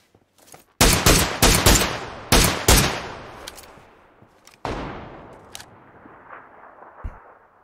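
Gunfire in the battle royale game PUBG: several loud, sharp shots in quick bursts early on, then a single heavy blast with a long fading tail and scattered fainter shots afterward, with no talk.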